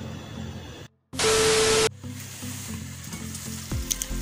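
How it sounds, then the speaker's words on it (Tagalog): Water comes to a boil in a pot for Arabic white rice in a home kitchen, a short loud hissing burst of under a second that drops back to a quieter steady bubbling bed. "Kumukulo na yung tubig natin."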